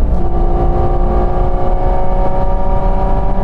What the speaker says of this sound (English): So look, if I floor it in 7th,